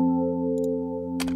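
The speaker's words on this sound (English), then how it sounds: "Could even have the Rhodes like filtered out for this section." Filtered Rhodes electric piano holds a sustained, muffled chord with the highs rolled off, steady and close, with a couple of faint clicks and a brief bright transient near the end.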